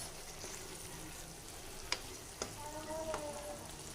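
Capsicum and cabbage stir-fried in a pan with carrots for achari vermicelli, a steady low sizzle broken by a couple of sharp spatula clicks and scrapes, fairly faint and close, with no talking.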